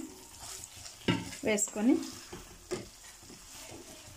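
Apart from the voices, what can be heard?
gobi (cauliflower) frying in oil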